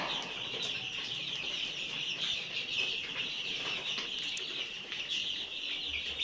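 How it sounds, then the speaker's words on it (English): Dense, steady peeping from a brooder crowded with 150 two-week-old rainbow rooster chicks, a continuous high chorus of overlapping chirps with no voices over it. "So here right now I have 150 chicks. These ones are 2 weeks old rainbow roosters."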